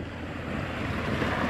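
Calm sea waves wash steadily around a fishing boat in a soft, even rush, with light wind noise over the water.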